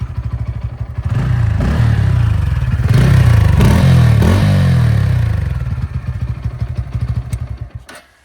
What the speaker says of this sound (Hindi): तो अभी हम इसको स्टार्ट करेंगे। एग्जॉस्ट नोट सुनना, बहुत ही प्यारा साउंड है